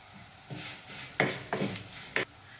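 Sliced green chillies drop into a hot pan and sizzle while cooking an ivy gourd (kovakka) curry, a low frying hiss punctuated by three or four sharp crackling bursts as they are stirred, close up and without speech.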